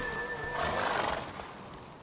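Roach, a mare in The Witcher 3, neighs once in a drawn-out, loud whinny that swells and fades over about two seconds, with no talk over it.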